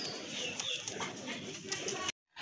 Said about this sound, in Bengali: খুবই চমৎকার এক জোড়া কবুতর, ভালো মানের কবুতর